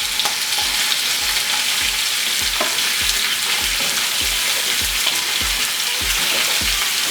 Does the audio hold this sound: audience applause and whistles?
no